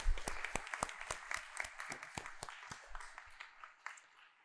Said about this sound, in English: And a nice round of applause for Anastasia.